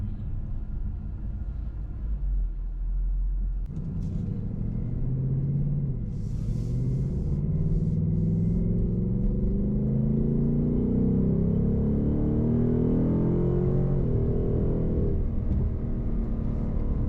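A 2024 Ford Mustang GT RTR V8 rumbles while driving, a deep steady drone that swells and climbs in pitch as the engine pulls harder, loud and close, with no voices.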